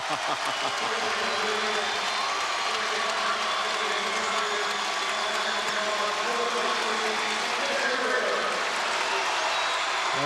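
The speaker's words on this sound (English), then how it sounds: "Big hand for everybody. Lots of applause to go around tonight." Basketball crowd at the 2004 Big South men's championship gives sustained, dense applause that fills the arena continuously without a break, loud and steady throughout.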